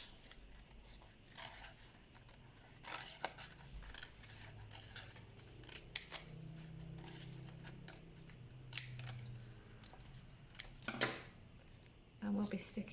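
Scissors snipping out an orange flame shape for a homemade rocket shaker, a series of quiet, crisp cuts in uneven bursts close by.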